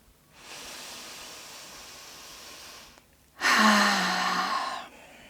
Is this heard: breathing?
yes